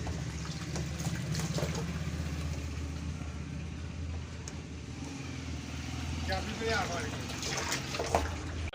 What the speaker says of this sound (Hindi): अभी हम पानी डाल रहे हैं